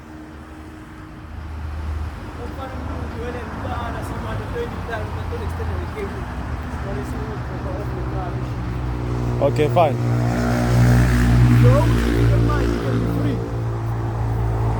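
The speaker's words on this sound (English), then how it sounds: "here's the tow truck driver coming now" A tow truck pulls up on a street, its engine a low rumble that grows louder and nearer over about fifteen seconds, with people talking briefly over the approaching vehicle.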